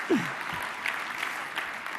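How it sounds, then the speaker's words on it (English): Audience clapping at a live event, a dense steady wash of applause, moderately faint, with a brief voice at the start. "Now clap."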